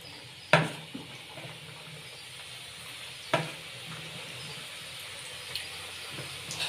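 Hot oil sizzling in a pan while shakarpara fry, a low, faint, steady hiss broken by a couple of sharp clinks or pops.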